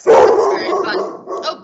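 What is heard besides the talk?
dog barking in the background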